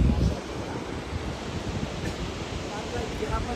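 Water roars in a dense, constant rush at Thoseghar Waterfalls in Satara, India, loud and unbroken throughout.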